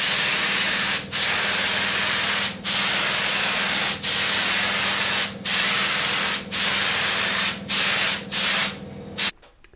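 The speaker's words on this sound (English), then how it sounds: "let's crack on by breaking out the spray gun and shooting some lacquer" Steady, loud hiss of a spray gun laying down lacquer on an ES-335-style guitar body in long continuous passes, broken by several brief pauses between strokes.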